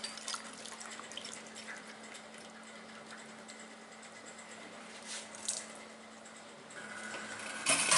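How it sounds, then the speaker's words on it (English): Parts just out of a hot ultrasonic cleaner are rinsed under running water, giving a steady close splashing hiss with a faint hum beneath and a louder burst of spray at the end. "Give everything just a rinse off."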